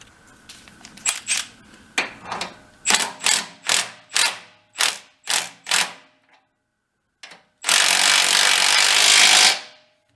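A socket wrench ratchets on an antique tractor in a series of about ten short, evenly spaced clicking bursts, then a pause and one longer continuous ratcheting run near the end, close and clear with no talking.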